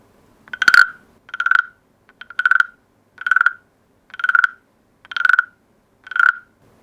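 A steady series of seven rasping croaks from a wooden frog percussion instrument, evenly spaced about a second apart, each a ratcheting wooden scrape with a bright tone, close and clear.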